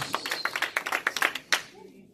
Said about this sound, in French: Alors applaudissez pour votre Seigneur.